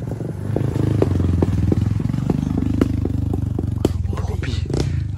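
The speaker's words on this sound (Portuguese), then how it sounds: "E tem uma mini moto descendo." A small mini motorbike engine buzzes steadily with clattering and bumps as it rolls downhill over a potholed surface, loud and close, with people talking in Portuguese over it.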